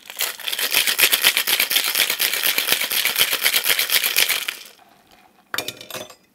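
Cocktail shaker packed with ice and two styles of rum shaken hard, a dense rapid rattle of ice against metal lasting about four seconds, then a pause and a brief final clatter.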